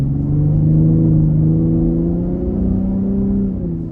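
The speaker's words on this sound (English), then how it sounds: "All right, guys, we'll try the exhaust in sport mode," A 2023 Ford F-150 Raptor's exhaust in sport mode drones in a deep, close-up rumble as the truck accelerates, its tone rising slightly and holding steady before easing off near the end.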